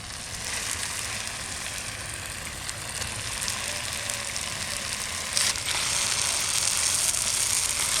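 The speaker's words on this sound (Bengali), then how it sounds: "মাছগুলো এখন মশলার মধ্যে দিয়ে দেবো" Pieces of rohu fish sizzle steadily as they drop into hot spice paste in a pan, a continuous close frying hiss that swells slightly louder partway through, with no talking.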